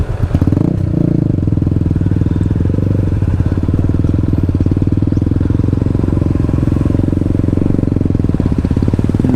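Motorcycles ride a rough road on Polillo Island, giving a loud, close, steady engine thrum with a fast pulsing beat and faint rattling, unbroken for the whole stretch.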